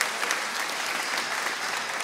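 A concert audience at an orchestra event claps steadily and densely throughout, a moderately loud, even burst of applause with no voices on top.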